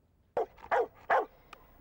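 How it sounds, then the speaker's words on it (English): An American bulldog out on a morning walk in Nottingham gives three short, sharp barks in quick succession, followed by a faint yip, close by and with no talking. "He's an American bulldog, not one of the breeds banned under the Dangerous Dogs Act."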